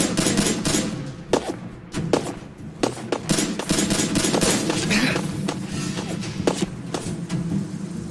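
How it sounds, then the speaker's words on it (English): Rapid bursts of gunfire in the video game Fallout 4, with sharp cracks and thumps, repeated irregularly over a dense, noisy background of combat. "Hey, my first gunfire!"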